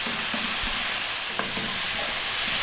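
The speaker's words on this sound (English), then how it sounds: "we're going to add that soy, just like a tablespoon of that. And just for 1 minute, fry that around" Mushroom fried rice with a tablespoon of soy sauce sizzles steadily in a pan, a loud continuous frying hiss with occasional soft clinks and stirring scrapes.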